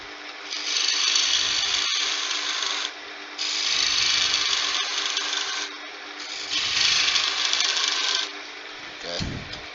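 Wood lathe spindle-turning a candlestick: three long bursts of bright scraping, rasping tool-on-wood cutting over a steady motor hum, each pass several seconds, separated by short pauses, close and fairly loud, no talking.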